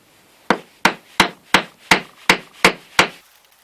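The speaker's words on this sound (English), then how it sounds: "And also put glue on the pins and then lightly tap them into the wood." Eight evenly spaced, sharp hammer taps on glued pins going into a wooden knife handle on a sawblade parang, each a crisp close knock with a quick decay, roughly two per second.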